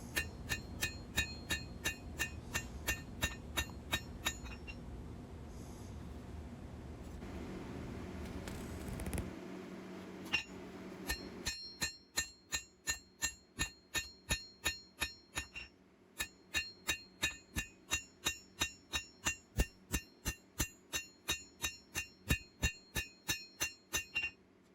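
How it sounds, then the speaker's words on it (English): Light hammer taps ring on a leaf spring knife blade against an anvil during forging, first blurred with scraping noise, then crisp evenly spaced metallic pings in a steady quick rhythm, close and clear. "a few more tickles between the hammer and anvil."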